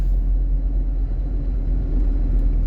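Austin Princess classic car on its first drive in ten years, a continuous low engine rumble and road drone heard from inside the cabin, steady and loud with no talking.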